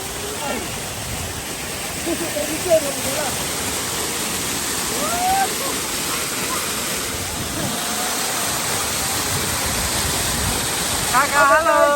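Bukit Gibeon waterfall near Parapat in Sibisa, by Lake Toba, roars as a steady, dense wash of falling water close by, with faint voices and bird-like chirps in the background.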